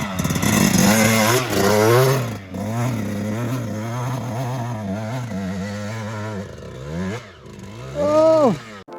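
A 2000 Suzuki RM125 two-stroke dirt bike engine screams and revs hard up a steep hill climb, pitch rising and falling with throttle blips, close and loud with voices heard over it.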